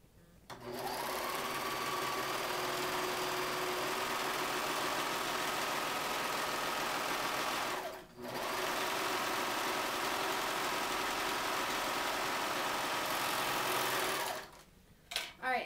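A sewing machine stitches the side seams of a fabric bag, running loud and steady in two long bursts separated by a brief pause, then stops near the end with light handling sounds.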